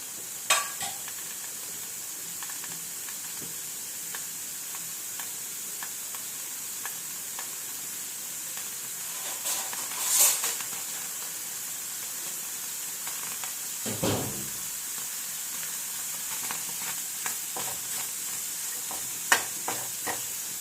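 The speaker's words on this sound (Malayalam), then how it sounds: "പാത്രം ചൂടായിട്ടുണ്ട് വറുത്തെടുക്കാൻ" Prawns frying in a hot pan in a home kitchen, a steady close hiss of sizzling oil with occasional stirring scrapes and small clatters, no voices.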